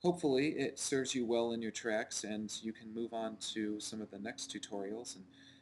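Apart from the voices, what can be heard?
No distinct noise like a dog, phone or traffic.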